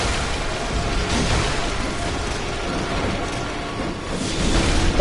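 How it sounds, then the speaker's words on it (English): A giant cosmic explosion in a boss fight: a sustained, dense roaring blast that stays loud and steady throughout, swelling slightly near the end. "That's a giant cosmic explosion."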